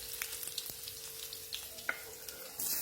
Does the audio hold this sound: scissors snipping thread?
no